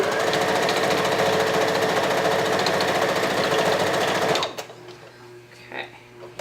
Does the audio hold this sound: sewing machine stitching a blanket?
yes